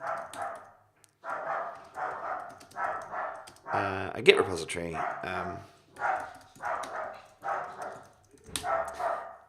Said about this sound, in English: I'm sorry about the dog barking in the background.